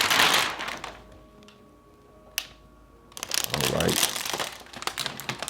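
Protective film peels off a new Samsung S90F OLED TV, giving a loud close crinkling and crackling at the start, a quiet stretch with one sharp snap, then a longer burst of rustling and crinkling.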